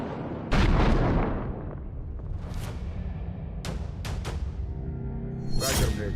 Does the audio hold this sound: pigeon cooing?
no